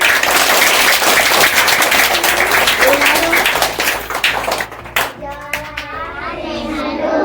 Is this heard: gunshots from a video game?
no